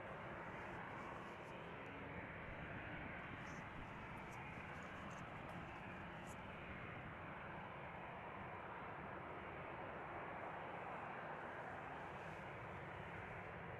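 A 24-year-old KLM Boeing 737-800 departs Amsterdam Schiphol for London Heathrow, a broad, steady jet engine roar held at an even level throughout, distant and without voices.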